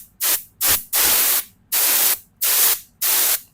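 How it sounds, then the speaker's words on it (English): Compressed air blasts from a nozzle clean the holes of bicycle headset parts and the bearing cage: six short, loud hissing bursts in an uneven rhythm, separated by brief silences, with no voices. "If you have access to some compressed air, you can give the holes a quick little blast."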